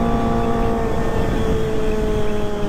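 A Kawasaki ZX-25R motorcycle fitted with a Proliner TR2 full-system exhaust holds a steady, loud, buzzing engine drone while cruising, with no voices.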